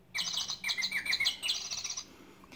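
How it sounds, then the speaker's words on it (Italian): Small birds chirp and sing together in a quick, overlapping run of bright, high tweets lasting about two seconds, close and clear, then trailing off. "cinguettò un uccellino e si mise a cantare con tanti altri uccellini"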